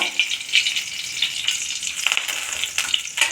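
Curry leaves crackle and sizzle in hot oil in a pan while making capsicum and ladies finger sambar, a steady close frying hiss with small popping bursts throughout.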